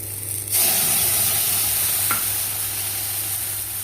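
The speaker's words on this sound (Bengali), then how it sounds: "এই যে ভাজা ভাজা হয়ে গেছে" Spices with salt and turmeric hitting a hot pan for a pointed gourd and ground pea lentil dish: a sudden loud sizzle bursts in, then settles into a steady close hiss with a brief scrape midway.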